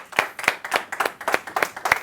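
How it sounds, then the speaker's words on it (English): Audience at a comedy club applauding a comedian coming on stage, with steady, close hand claps at an even rhythm throughout, no voices. "ladies and gentlemen. Round of applause."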